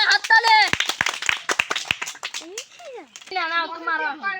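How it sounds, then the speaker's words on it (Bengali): Quick bursts of hand clapping from a small group at a children's balloon popping contest, sounding amid excited talking and children's voices. "তার রুদ্রর জন্য সাধনামূলক একটা জোরে হাততালি।"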